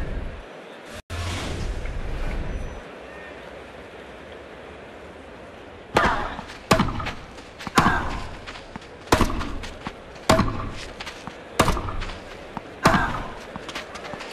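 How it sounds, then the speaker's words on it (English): Forehand strokes in the Xbox 360 tennis game Grand Slam Tennis 2, in a French Open clay-court match between Serena Williams and Chris Evert: after a quiet stretch with one click, about seven loud, close, thumping racket hits come roughly a second apart. "that thumping forehand into the backhand corner"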